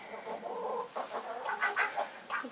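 Chickens cluck inside a coop in a close, busy series of short, overlapping calls with no talking.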